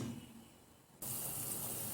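A cup of water is poured into a pot of simmering tripe soup, giving a sudden, steady close-up gush of liquid that starts midway and keeps splashing evenly to the end.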